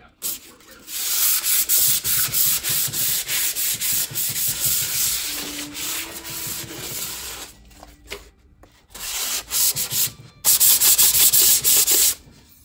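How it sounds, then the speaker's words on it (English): Steady back-and-forth rubbing of sandpaper lightly scuffing a painted jewelry armoire between coats, close and continuous with a few short pauses, and no talking. "I'll sand it lightly to remove any nits and then do a second coat off camera."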